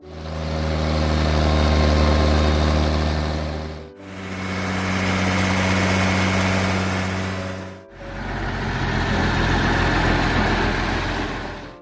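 A Massey Ferguson 1100 tractor engine idles in three separate stretches, each a steady, rumbling drone at moderate volume that fades in and out between cuts, with no voices.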